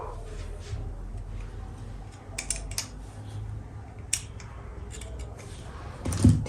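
Scissors cut through heavy salwar fabric on a small table, producing scattered crisp snips and blade clicks over a low background hum, with a louder handling thump near the end.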